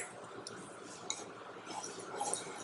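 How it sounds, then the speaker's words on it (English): A whisk beats banana pancake batter in a bowl in a home kitchen, making quiet, close, continuous light ticking and clinking against the bowl at a quick, uneven pace. "Now Dom's going to whisk."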